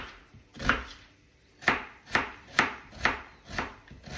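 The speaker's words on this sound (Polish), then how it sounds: "Cebulkę kroję w kostkę." Onion being diced with a knife on a cutting board for potato babka with bacon, six crisp, close chops at an uneven pace, each with a sharp attack and short decay, no talking.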